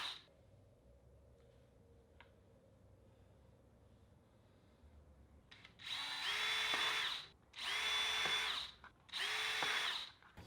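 A power drill whirs in three strong bursts driving a screw into stucco for garage weatherstripping, each run rising to full speed then stopping, after a few seconds of quiet room noise.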